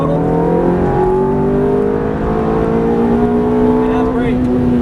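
A Ferrari F430 engine pulls hard at full throttle on a racing track, its loud, steady rising drone building continuously throughout without a break.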